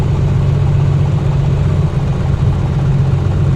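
A Piper Comanche aircraft engine idles in a flight simulator with one weak, misfiring cylinder, a loud continuous low rumble with a slightly uneven pulse, alone and close.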